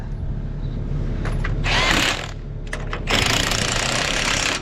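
Bolts being tightened on a John Deere 7520 tractor during a rebuild, with close, continuous mechanical rattling and buzzing in two louder bursts over a steady low hum, like a power impact wrench running.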